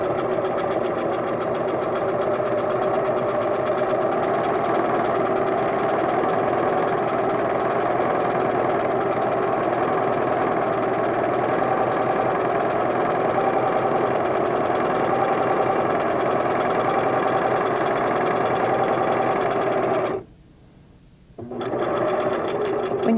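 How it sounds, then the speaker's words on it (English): A Singer sewing machine runs a steady straight-stitch seam, a loud continuous whirring drone that cuts out briefly near the end before starting again. "Set your sewing machine for a straight stitch and stitch a 1/4 inch seam allowance"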